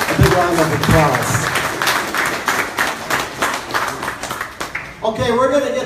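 Crowd applause at the opening of a new exhibit at the Guam Museum, dense clapping filling the first five seconds with cheering voices mixed in, then tapering as a speaker begins talking near the end.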